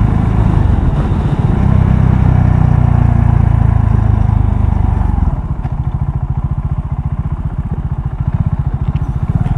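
A KTM Duke 690 single-cylinder motorcycle revs hard under acceleration, then settles into a loud, steady, throbbing engine beat while riding, close and prominent with a heavily vibrating character.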